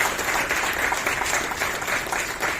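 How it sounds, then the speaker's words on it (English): Steady audience applause for the interpreters at a disability rights advocates' gathering, a dense, even patter of many hands sustained throughout with no pauses. "put a round of applause to all the interpreters who are present here today"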